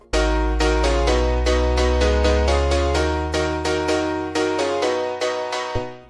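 A future house build-up: loud, rapid repeated synth chords over a sustained deep bass, with the stereo image automated from wide to mono before a sudden cut near the end.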